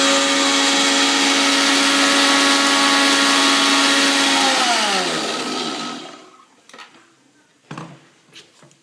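A mixer grinder whirs loudly and steadily as it powders roasted spices and sesame seeds, then winds down to a stop around the six-second mark, followed by a few faint clinks.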